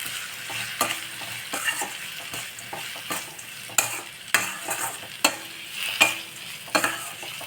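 Powdered peanuts roast in a pan for sabudana upma, a faint background sizzle with repeated crisp scraping strokes of a spatula against the metal, some louder than others, no talking.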